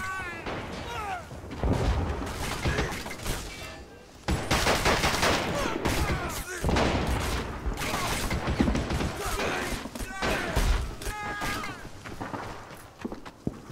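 Rifle and machine-gun fire rattle through a battle in Army Men of War, with dense overlapping bursts, booms and clatter across a trench-line fight between red and blue forces, while someone speaks over the gunfire.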